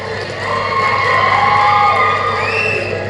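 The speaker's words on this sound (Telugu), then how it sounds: "మనమంతా లేచి నిలబడి చప్పట్లతో స్వాగతం పలుకుదాం" An auditorium audience at a Telangana government event welcomes the Chief Minister with a sustained swell of cheering and crowd noise. It builds loud, with whoops rising over the mass.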